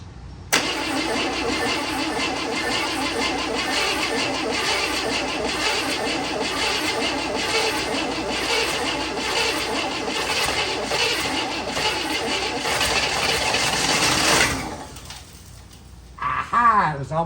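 A 1965 Chevy Bel Air V8, partly stuck at high idle, runs with a loud, steady, close engine roar for about fourteen seconds before dropping off, followed by a brief rising whine near the end.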